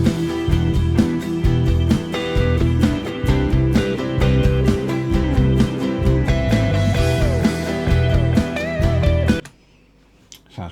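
A bass guitar, amp and DI signals blended, plays a groove with full, punchy low notes under a busy band mix, then cuts off abruptly near the end into near silence.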